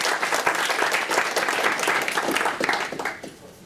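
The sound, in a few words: audience applause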